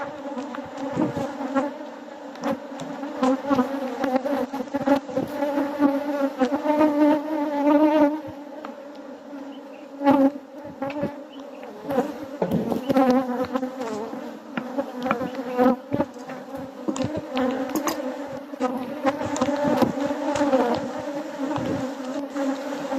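Dense, steady buzzing of many honey bees close by at a hive, a continuous droning swarm with individual insects flitting past.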